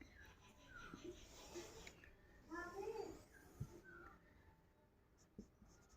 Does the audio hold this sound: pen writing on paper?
yes